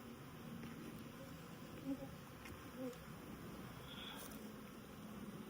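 A dense, steady hum of many honeybees swarming over a hive frame while two colonies are merged and a queen is introduced, close and continuous, with a couple of brief louder buzzes passing near.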